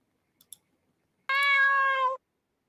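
A cat meow sound effect fires from a stream deck button: two faint clicks, then one clear, sustained, tonal meow under a second long, loud and close, followed by silence.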